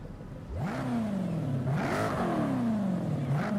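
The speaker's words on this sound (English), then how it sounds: "A solid British V8." A British V8 GT car's engine in Forza Horizon 5 revs hard, climbing in pitch, dipping, then surging through repeated rising and falling sweeps with a loud, aggressive growl.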